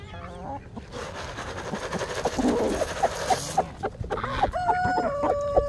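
Chickens cluck and squawk in a busy chorus, with honking geese mixed in nearby and a sustained tone toward the end.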